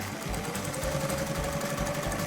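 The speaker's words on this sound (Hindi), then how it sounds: "सिलाई मशीन," A cartoon sewing machine runs with a steady mechanical whir and rhythmic low thumping pulses, continuous and fairly quiet, with no voices.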